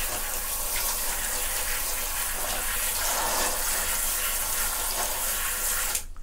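Steady running water filling a bath for a pet lizard, a continuous close tap rush that cuts off abruptly near the end.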